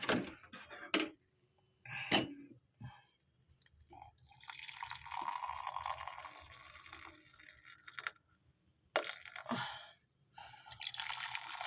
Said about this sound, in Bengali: তো চলুন আমি কফিটা ঢেলে নিই